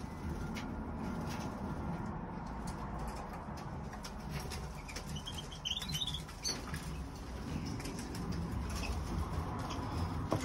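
Pet pigeons coo softly in a loft, low rounded calls repeating over a steady rustling background, with a few faint wing flaps and scuffles nearby.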